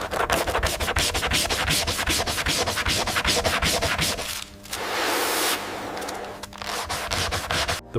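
Rubberized paint on the edges of an eel-skin handbag being sanded by machine, a dense, continuous rasping scrape. It runs loud and steady, with a brief shift in tone midway.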